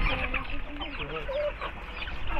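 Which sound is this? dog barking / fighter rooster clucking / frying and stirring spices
fighter rooster clucking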